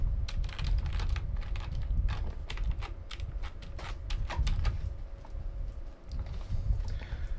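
Rapid, irregular clicks of typing on a computer keyboard at a PC desk, close and steady over a low room hum, with no talking.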